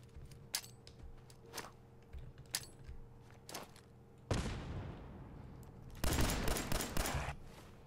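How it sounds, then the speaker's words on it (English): Shotgun blasts in a Fallout video game: scattered sharp reports early on, then two heavier, louder bursts that ring out with a lingering tail, no talking. "Shotgun"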